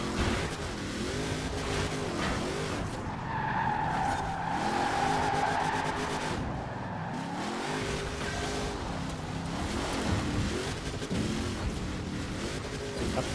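A 1300-horsepower Ford Bronco racing in Forza Horizon 4 online, its engine roaring and revving through repeated gear shifts with rising and falling pitch, tire squeal and skidding mixed in, loud and continuous.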